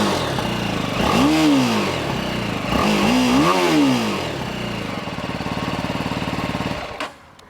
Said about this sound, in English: So let's hear the stock exhaust note. This is the GS.